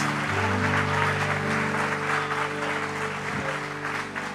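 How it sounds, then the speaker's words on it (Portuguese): Church congregation applauding for Jesus during a Portuguese-language sermon, a steady wash of clapping with a sustained organ or keyboard chord underneath, fairly loud throughout. "dê uma salva de palmas para o Senhor Jesus."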